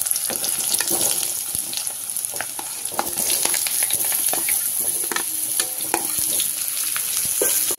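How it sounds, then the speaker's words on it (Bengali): Potato pieces frying in a pan with black mustard seeds, a loud steady sizzle with occasional stirring scrapes throughout, close and continuous, no talking. "আলুটা আমি এইভাবে লাল করে ভেজে নিয়েছি।"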